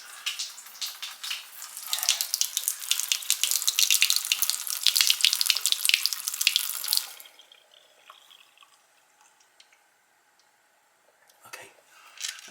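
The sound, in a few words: water draining through a newly installed kitchen sink drain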